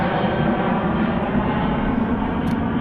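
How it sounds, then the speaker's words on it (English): A steady low engine roar comes from airplanes landing at an airport close by, heard from the ancient ruins of Ostia Antica as a constant, moderately loud drone with no voices. "You got the planes landing there."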